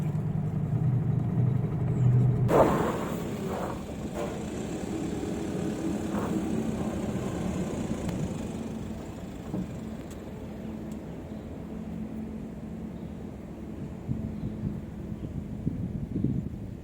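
Inside the cab of a Mitsubishi Triton Mega Cab 2.4 pickup pulling away in first gear, a low steady engine drone and road rumble with a brief louder surge at the start.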